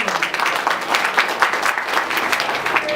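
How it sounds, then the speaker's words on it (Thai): Guests at a Thai wedding give a brisk, full round of clapping as the bride and groom pay respect to their parents; dense, even and close, lasting the whole stretch with no speech. "ขอเสียงปรบมือด้วยค่ะ"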